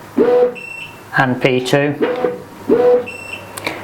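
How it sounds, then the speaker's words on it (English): Roller blind motors give short, high electronic beeps while being programmed with a remote, a few brief tones sounding faintly in the background under a man's close speech. "the motors are beeping at me"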